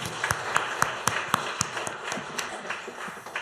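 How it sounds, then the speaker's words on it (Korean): A church congregation applauds during a Sunday morning Easter worship service, a steady patter of many hands clapping at moderate loudness with a few sharper claps standing out. "박수로 하나님께 영광을 돌려."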